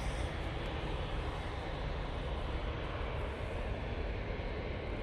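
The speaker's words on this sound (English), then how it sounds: "TUI Dreamliner waiting to come on right in front of us." A TUI Boeing Dreamliner airliner at Manchester Airport gives a steady, broad jet roar that holds at an even level throughout, with no voices.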